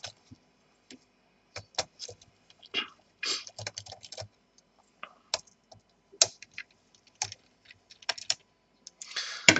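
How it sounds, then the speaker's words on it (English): Small screws holding the keyboard of an Alienware M14x R1/R2 laptop are removed during disassembly. Sparse, quiet clicks and scraping taps come close up in irregular bursts with silence between them. "remove the three screws which are holding the keyboard"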